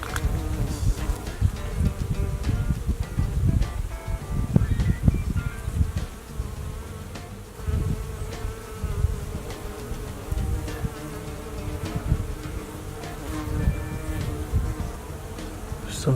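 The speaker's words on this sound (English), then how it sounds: "It's very nice to hear all the bees," Many bees buzz in a yard tree, a continuous close humming drone that wavers in loudness throughout, with no speech.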